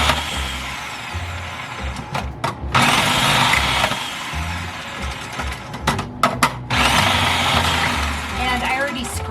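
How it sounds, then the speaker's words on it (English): A food processor slices potatoes for old-fashioned scalloped potatoes: loud motor whirring bursts run in two long stretches broken by clunks and pauses, with background kitchen noise. "I'm going to use my food processor to slice these potatoes"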